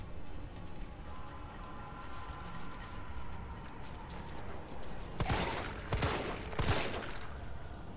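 A pistol fires three sharp shots in Resident Evil 3 Remake, spaced about a second apart. The shots are moderately loud over a low, steady game background, with no speech.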